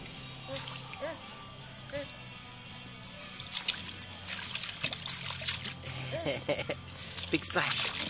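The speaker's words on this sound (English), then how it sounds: "Do big splash." A child splashes and sloshes water in a small backyard pool, with intermittent splats and trickles growing busier toward the end, while an adult's voice and a voice talk over the play.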